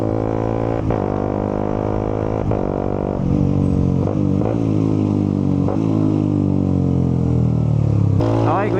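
Suzuki GSX 150 motorcycle engine revving hard close up, with sharp pitch drops at each quick-shifter gear change and a final climbing rev near the end.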